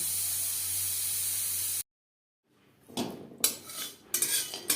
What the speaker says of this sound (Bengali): গ্রেভির সাথে মাংস বেশ ভালো করে মিক্সড করে দেব